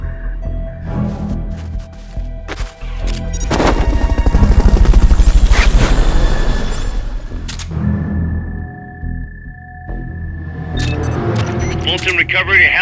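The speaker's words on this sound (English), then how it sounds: "Fulton, recovery to helicopter is complete." A helicopter in Metal Gear Solid Peace Walker during a Fulton recovery: a thumping rotor roar swells loud in the middle and then fades, mixed with other game effects and tones, and a voice speaks near the end.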